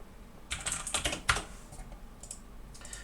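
Rapid keystrokes on a computer keyboard while entering part details for a wooden boat project drawing, a dense burst of close clicks in the first second and a half, then fading to a few light taps.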